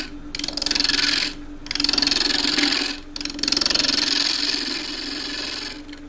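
A half-inch spindle gouge cuts wood on a lathe, a rasping, hissing scrape over the steady hum of the spinning work, coming in three sustained passes separated by brief pauses.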